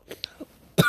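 A person coughing close to the mic: a few small throat catches, then one harsh, louder cough right at the end, with no talking.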